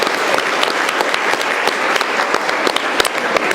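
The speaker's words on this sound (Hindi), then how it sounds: "एक बार प्रधानाध्यापक के लिए आप लोग ताली बजाइए, वो ताली कि वहां तक सुनाई पड़े," Schoolchildren at a government school in Bihar clap loudly for their headmaster, a dense, energetic burst of applause with sharp individual claps standing out, sustained throughout without talk.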